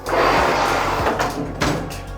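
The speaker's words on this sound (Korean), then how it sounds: "이렇게 문을 열었을 때 왼쪽 문이 튀어나옵니다." Magic sliding cabinet door in an apartment interior rolling open, a short rumbling slide with soft thuds, close and alone.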